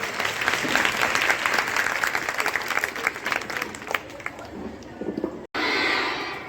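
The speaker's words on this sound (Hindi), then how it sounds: "जोरदार तालियों से स्वागत करें।" A hall of schoolchildren and guests claps to welcome a speaker from a women's helpline organisation in Jhansi, a loud, dense burst that thins and fades before cutting abruptly to a different background hum.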